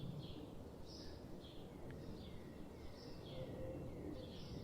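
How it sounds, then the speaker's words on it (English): Faint birdsong drifts in from a distance, a series of short chirps scattered over a soft outdoor hush. "Maybe you're hearing birdsong."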